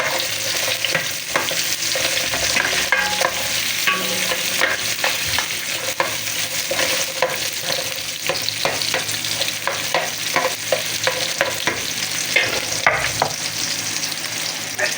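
Onion fries in a pan for beef steak, giving a steady, dense sizzle throughout with frequent small crackles and stirring scrapes close by.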